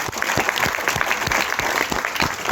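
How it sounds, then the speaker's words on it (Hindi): Applause from an audience at a Vestige business training session, honouring a man who has just finished and taken his seat; dense, steady clapping from a full room, close and sustained without voices. "एक बार तालियां बजा दीजिए सर के लिए"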